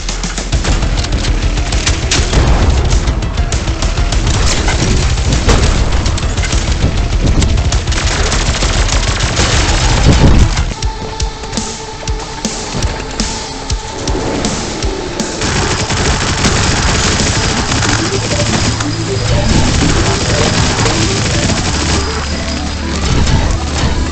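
A spread-shot gun in Turbo Overkill fires three-projectile bursts in rapid, dense succession, loud and continuous with booming impacts and a driving game soundtrack underneath throughout.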